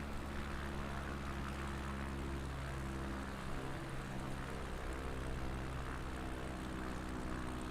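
Steady propeller-aircraft engine hum in a flight simulator game as the plane powers down for landing, a continuous even drone with no talk.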